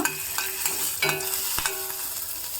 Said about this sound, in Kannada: ನೋಡಿ ಒಗ್ಗರಣೆ ರೆಡಿ ಆಯಿತು